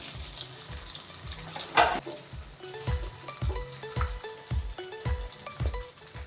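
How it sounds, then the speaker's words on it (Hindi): Chicken shami kababs fry in a pan of oil with a quiet, steady sizzle, punctuated by a sharp burst and a run of light, rhythmic knocks. "बहुत ही अच्छे तरीके से मैंने कबाबों को तल लिया है"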